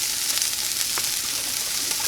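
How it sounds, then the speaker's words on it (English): Vegetables sautéing in a pan for an omelet, producing a dense, steady hiss of sizzling oil heard close up with no talking. "Now I've let those saute for a couple minutes, stirring occasionally."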